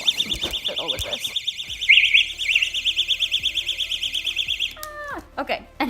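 Personal safety alarm pulled from a pack, a piercing warbling siren blaring loud and close for several seconds before cutting off, with a person talking over the start and end.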